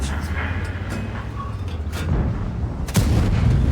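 Tank cannon fire in World of Tanks, with a Polish CS-52 LIS medium tank in battle: a low rumbling backdrop broken by two heavy booming shots, the second louder and closer, while a voice talks over it.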